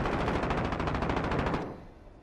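Rapid automatic gunfire in Call of Duty Warzone, a loud sustained burst of evenly spaced shots for about a second and a half, then cutting off into a fading tail.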